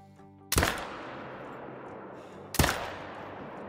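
Two sharp, loud hunting rifle shots about two seconds apart, each with a long echoing tail, fired at a raccoon in the hunting game theHunter: Call of the Wild.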